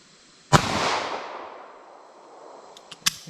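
A .380 ACP pistol fires two sharp, close shots about two and a half seconds apart into ballistic gel, the first followed by a long ringing decay and small clicks before the second.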